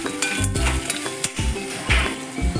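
Goan clams being stirred in a pan while they cook, with repeated scraping and clinking of a spoon against metal over a continuous sizzle, close and moderately loud.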